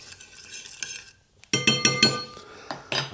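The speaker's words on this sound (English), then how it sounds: "Going to give it a quick stir, make sure everything's as it should be." A spoon stirs beef jerky marinade in a bowl, first soft swishing, then after a short pause a rapid run of bright metallic clinks against the bowl, close and clear, followed by a couple more scraping taps.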